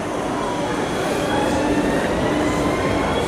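A train rumbling past close by, a loud continuous roar with faint wheel squeal and rail noise throughout, no pauses, heard from on or beside the tracks.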